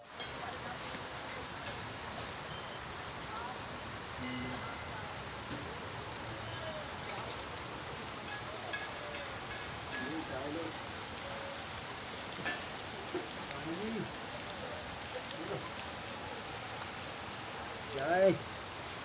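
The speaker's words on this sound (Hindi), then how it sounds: "बारिश" Rain falls steadily at a hilltop temple in Ramnagar in May, a constant soft hiss of drops on surfaces that continues evenly throughout, with a brief louder patter near the end.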